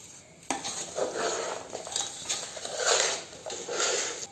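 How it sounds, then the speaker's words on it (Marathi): A spoon stirs homemade pickle with chilli powder and salt, scraping and clinking against the bowl in repeated close strokes, with a faint sizzling hiss underneath and no talking. "आता हे सर्व बघा मिक्स करून घेतले"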